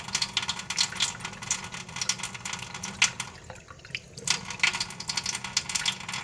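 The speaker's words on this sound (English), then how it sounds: "I'm gonna put some water in here." Water splashes and trickles steadily into a container for several seconds, with a brief lull midway before the flow resumes, close by.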